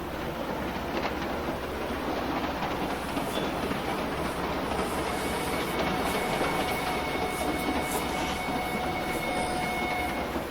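A train runs on rails in a film scene, producing a steady rumbling roar with rhythmic wheel clatter and faint squeals, continuous and moderately quiet.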